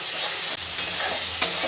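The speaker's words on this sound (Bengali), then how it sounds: "মশলাটা আমার খুব ভালো করে ভাজা হয়ে গেছে" Spices sizzling in hot oil for sweet-shop-style Bengali chana dal, a steady crackling fry with a couple of stirring scrapes in the pan, close and clear with no talk.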